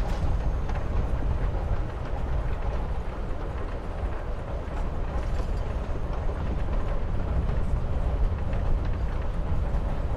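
Train rolling along rails in the game Life is Strange: Before the Storm, a steady, dense rumble with faint rhythmic clatter running continuously and evenly throughout, no voices over it.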